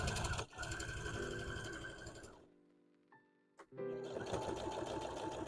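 A sewing machine stitching fabric pieces for a Toothless dragon hat runs loud and close in fast whirring bursts, pauses briefly with faint mechanical clicks, then starts stitching again.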